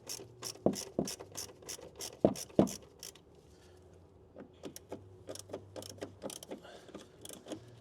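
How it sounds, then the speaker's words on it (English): Plastic nuts being undone on a BMW wheel arch liner, heard as quiet ratcheting clicks and scraping in two clusters of bursts separated by a pause, close by with no talk. "start getting those plastic nuts undone"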